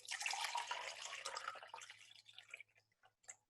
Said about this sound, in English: So what I'm going to do is fill that up with water.